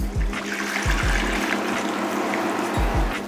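Heavy whipping cream and whole milk pour into a pasta sauce in a steady, close liquid stream with gurgles and splashes.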